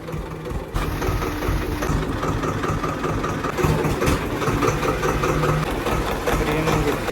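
A parked tractor idles steadily in the shade on a farm, its low engine rumble continuous and close throughout, with faint background noise and no clear speech.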